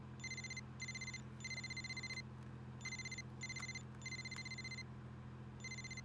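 A telephone rings indoors in repeated bright double bursts with short pauses between them, over a steady low hum.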